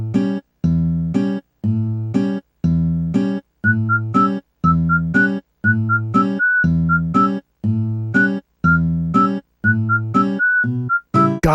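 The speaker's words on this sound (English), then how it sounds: "that whistling! It sounds like more than a post office theme." A bright whistled melody of the post office theme from the original Animal Crossing carries over a bouncy, steady accompaniment, clear and close, playing continuously with short rhythmic breaks.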